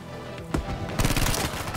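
Gunfire in the video game Battlefield V, with a single sharp shot followed after a pause by a rapid burst of several loud shots, heard close up.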